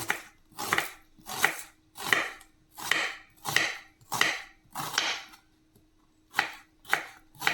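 A knife chops an onion into large pieces on a board, nine or ten evenly spaced crisp cuts with a short pause before the last two, close and clear.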